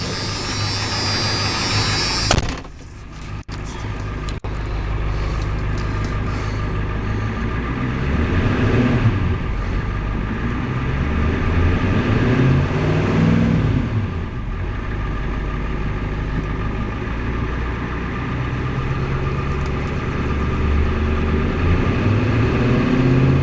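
A 1992 Ford F350 Custom Powerstroke turbo diesel idles with a steady, loud, close clatter and hum. There is a brief sharp break near the start, and a few swells of revving follow over about twenty seconds.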